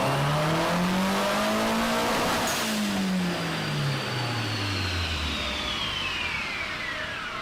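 A tuned car engine on a dyno pulls hard through a loud rising rev, then drops and winds down in a long falling whine, with a faint whistle trailing off.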